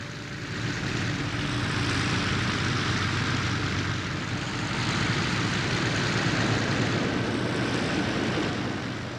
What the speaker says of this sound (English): the throbbing piston engine roar of the Skyraiders